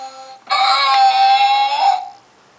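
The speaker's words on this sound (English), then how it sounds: "if you ever wondered what a giraffe sounds like" An electronic toy plays a giraffe call, a single sustained wavering bleating tone lasting about a second and a half, loud and close.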